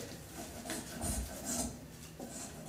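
Sandpaper worked by hand over a wooden cricket bat during final shaping, a close, dry rasping in uneven strokes with short pauses between them.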